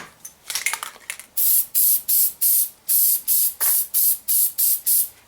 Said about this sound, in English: Today I'm going to be using the Hornady one-shot lubricant.